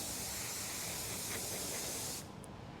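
A spray bottle gives one steady, close hiss lasting about two seconds, then cuts off abruptly into near silence.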